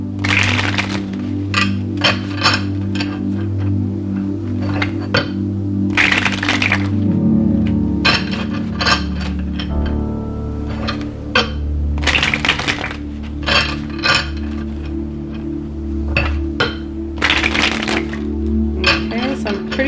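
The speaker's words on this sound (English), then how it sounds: "I'm going to shuffle 6 times and then we're just going to pull from the top." Rapid riffling and snapping of cards being shuffled in bursts, close up, with short pauses between rounds and a faint voice underneath.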